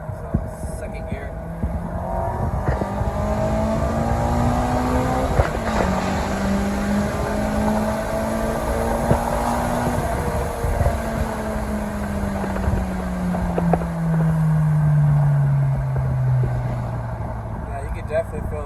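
A K24-swapped Acura RSX Type S pulls hard in second gear, its engine drone climbing steadily, then dropping at a shift and climbing again, with a voice talking over it.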